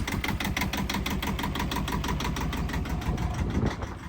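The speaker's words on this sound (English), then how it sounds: "So I'll just show you starting the engine." A Birdsall Gulf30 boat's engine idles steadily just after starting, a close, loud, even mechanical chug with a rapid regular knocking rhythm throughout.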